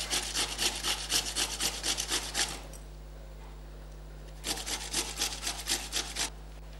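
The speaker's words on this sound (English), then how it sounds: "now I've grated the potatoes, okay, raw potatoes." Raw potatoes being grated by hand, heard as two bursts of rapid, rhythmic rasping strokes close up, separated by a short pause, over a low steady hum.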